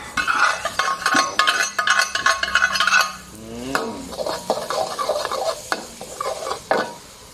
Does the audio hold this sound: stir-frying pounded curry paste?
yes